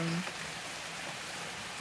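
Steady rain in southern Thailand hisses evenly throughout, a dense wash of falling drops with a brief tone at the very start.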